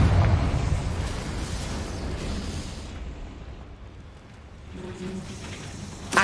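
A Confringo spell blast in Hogwarts Legacy erupts in a loud, booming burst, its rumble slowly fading, before a second sharp explosion hits at the very end.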